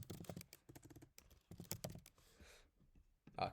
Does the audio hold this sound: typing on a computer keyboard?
yes